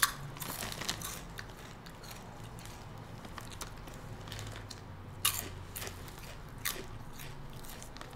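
Crunchy spicy ranch chips being bitten and chewed close to the mic, with irregular crisp crackles and a few sharper snaps against quiet background hiss.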